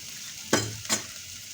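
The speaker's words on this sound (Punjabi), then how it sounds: "ਹਲਕਾ ਜਿਹਾ ਭੁੰਨ ਲਵਾਂਗੇ ਪਿਆਜ਼ ਨੂੰ" Onion fries lightly with coarsely crushed black pepper and coriander powder, giving a faint background sizzle and two quick scraping stirs of a spoon in the pan.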